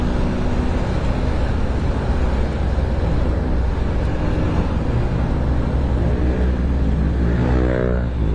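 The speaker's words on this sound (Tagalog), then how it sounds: "Maraming sasakyan ngayon" Dense road traffic rumbles past on a crowded street, a continuous loud engine drone and roadway roar from many cars with no clear gaps, one vehicle's engine rising in pitch near the end.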